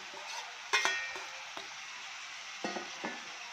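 Hot chillies and bell peppers tipped into a pan, a close sizzle with a couple of sharp clattering drops and stirring scrapes over a steady frying hiss.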